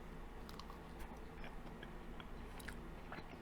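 Lazeez chicken, crunchy and fried, being chewed close to the mouth, with soft repeated bites and crisp crackles over a steady low background hum, quiet and without talking.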